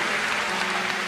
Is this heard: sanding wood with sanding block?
no